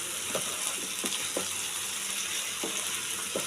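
Sankar fish fry in hot oil in a pan, a steady, moderately loud sizzle with occasional soft clinks and stirring scrapes, with no voices over it.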